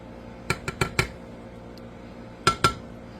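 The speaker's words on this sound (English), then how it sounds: "I'm going to take my tongs and place all the meat" Metal tongs clink several times in quick succession while meat is set onto bread for a French dip sandwich, followed by a pause and two more sharp clacks. The sounds are close and crisp over a quiet room hum.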